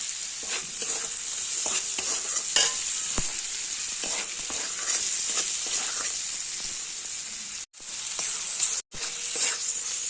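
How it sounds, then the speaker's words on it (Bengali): Vegetables and bay leaves frying in a pan for Kashmiri dal, a close, constant bright sizzle with light stirring scrapes throughout and two brief cut-outs near the end, no speech. "সব সবজি ভালো মতন ভাজা হয়ে গেছে"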